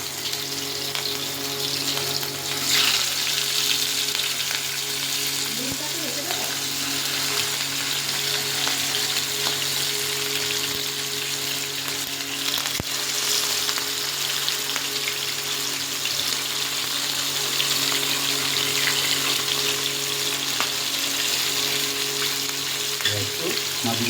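Pieces of katla fish fry in hot mustard oil, giving a steady, even sizzle with a soft bubbling hiss throughout and occasional faint clinks.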